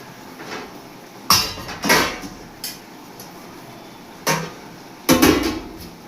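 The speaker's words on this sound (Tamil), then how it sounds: "அந்த மூடியை போட்டு கரெக்டாக வச்சு அழுத்திடணும்" Metal lid set onto a large pot of chicken biryani being sealed for dum cooking, a series of sharp metallic clanks and scrapes, about five distinct hits spaced irregularly, close and loud without talk.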